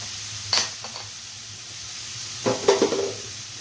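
Onions sautéing in oil in a pan for a Sicilian spaghetti pie, a faint background sizzle broken by a few clinks and scraping stirs, close and otherwise quiet, with no talking.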